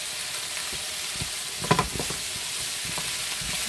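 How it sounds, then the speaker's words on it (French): A quick pan-fry of mixed ingredients sizzles steadily in a hot pan, with a few brief scraping clacks from stirring near the middle, close and continuous. "Donc là, on mélange le tout"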